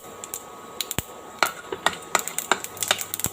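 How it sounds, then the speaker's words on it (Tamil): Mustard seeds popping in hot oil with cumin for a tempering, heard as irregular sharp little cracks and snaps, sparse at first and then quicker, close up and without talk. "இது 1 நிமிஷம் கடுகெல்லாம் வெடிக்கட்டும்"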